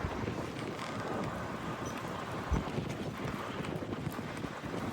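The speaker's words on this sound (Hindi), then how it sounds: "वो देखो कैसी कितनी तेज हवा चल रही है" Strong wind roars through a snowstorm, a steady broadband rush with close buffeting against the microphone and one brief louder gust midway.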